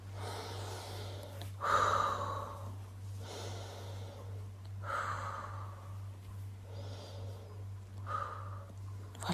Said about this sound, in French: Et on inspire 3 fois lentement.